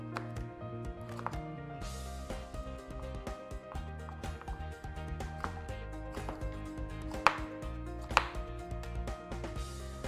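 A knife dices pumpkin on a cutting board in a steady run of close, crisp chops with a couple of sharper knocks, and a faint voice in the background.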